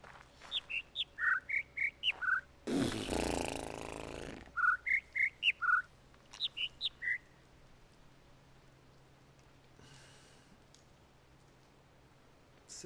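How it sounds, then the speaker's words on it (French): Birds chirping in The Witness video game: close, clear bursts of rapid high tweets in several quick series, broken by a brief loud noise burst, then fading into quiet ambience. "Ouais, donc les oiseaux, nous y voilà."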